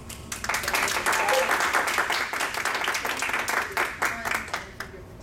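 An audience at a workforce community meeting breaks into applause, with dense steady clapping that swells quickly, holds for several seconds, then thins out as a speaker's voice returns.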